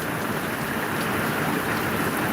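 Heavy rain pouring steadily in Gboko, Nigeria, a dense, even hiss of falling water close by with no pauses and no voices.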